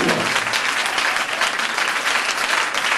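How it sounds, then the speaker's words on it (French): A church congregation at an evangelistic deliverance meeting in Abidjan bursts into dense, sustained applause, loud and continuous from start to end with no pauses. "Acclame pour eux."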